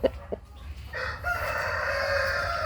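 A chicken makes a couple of short clucks, followed by a sustained, loud crowing call that carries to the end, with no talking.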